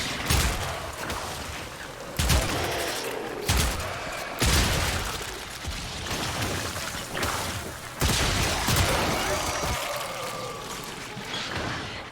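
Gunfire in the video game Warframe, heavy sustained bursts of weapon fire with sharp booming onsets repeating every couple of seconds, dense and loud throughout.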